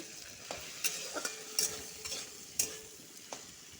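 Potato pieces fry in a pan on a home stove, a soft steady sizzle broken by several sharp scraping clacks of a spatula stirring them at irregular intervals, close and clear with no talk.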